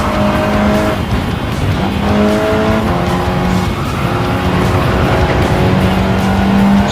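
A Mercedes-AMG GT Black Series lapping the Spa-Francorchamps circuit in a racing simulator, its engine droning loudly and continuously with shifting pitch and tire squeal, heard close with no talk.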